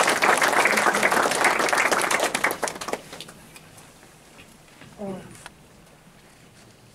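A conference audience at a trading seminar claps warmly, dense applause for about three seconds that thins out into scattered claps, then a brief voice and quiet room tone.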